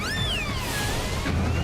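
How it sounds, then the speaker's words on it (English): A cat meows with rising, wavering harmonic cries in a Pokémon Legends: Arceus game, heard clearly over a steady low rumble of background noise. "Ooh, sorry, Mr. Kitty."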